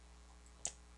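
A single faint, crisp computer mouse click during SolidWorks CAD work, isolated against quiet room hum.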